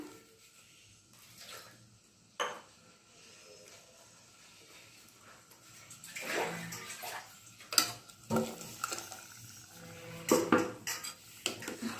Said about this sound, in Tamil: இப்போ இதுக்கு தேவையான தண்ணி நம்ம ஊற்றலாம்